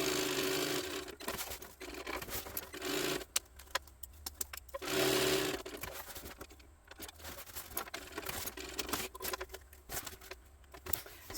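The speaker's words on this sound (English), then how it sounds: "So I'm just going to sew all the way around." A sewing machine stitches around a box on an overnight-size tote bag, running in bursts of rapid mechanical whirring with short pauses, close and fairly loud, with no talking.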